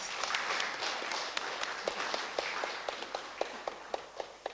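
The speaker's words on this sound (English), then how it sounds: "we need to give a round of applause to all our panelists and to you as well for your contributions" Audience applauding conference panelists at the close of a judicial colloquium session on copyright and trademarks, a thin, scattered patter of claps with a few sharper individual claps standing out near the microphone.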